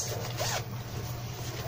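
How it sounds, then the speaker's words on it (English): A short zipper pull on a small pouch rasps close by over a low steady hum, with no talking. "Zipper."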